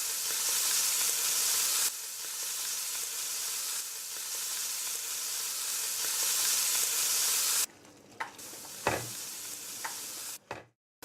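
Chicken pieces fry skin side down in a single layer in hot oil, a loud, dense, steady sizzle that later drops away, leaving a few clanks and knocks.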